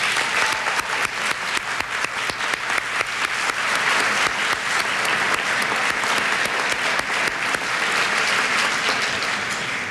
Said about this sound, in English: Please give a round of applause to Meredith Andrews, Marianne Jacobs, Meg Ca